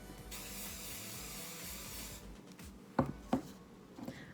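A long, soft hiss of Kenra hairspray for about two seconds, sprayed onto hair pulled back for a bun, followed by a few quiet taps and handling noises.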